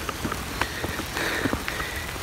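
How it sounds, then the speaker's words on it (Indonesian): Light drizzle pattering on surfaces along a mountain trail at the start of a hike up Gunung Ungaran, a steady soft hiss of rain with scattered close drops, no talking. "Kondisi gerimis-gerimis sedang."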